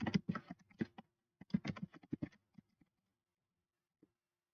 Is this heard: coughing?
no